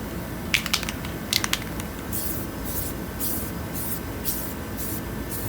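Spray can laying primer onto an 18-inch wheel rim from a 2008 Chrysler 300C during refurbishment, heard as a few short sharp hisses followed by a run of longer even spray bursts over steady background noise.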